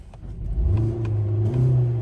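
A Hyundai or Kia car engine, just after an intake runner and VCM motor replacement, revs up close, rising in pitch and holding a steady high drone.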